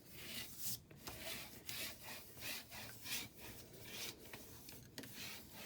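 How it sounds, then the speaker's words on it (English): Burnishing tool rubbing paper down onto a winter trifold folio in repeated back-and-forth strokes, a soft, steady scraping friction heard close and alone. "we are going to burnish really quick to make sure it's all down really good"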